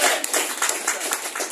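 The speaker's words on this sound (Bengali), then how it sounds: "জোরে একটা হাততালি জানেন" A crowd gives loud applause, dense overlapping hand claps with sharp bursts, filling the space with a bright, continuous clatter.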